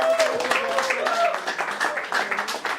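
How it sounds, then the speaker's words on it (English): A short burst of group clapping in an academy classroom on an introductory day, largely buried under several people talking and cheering over it. "Round of applause for us."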